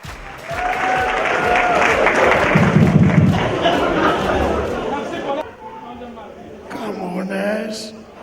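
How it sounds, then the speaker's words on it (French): Audience at a comedy show bursts into loud applause, dense clapping that fills the room and then fades near the end, with crowd chatter and a voice speaking over it. "Le président Antonio, on applaudit."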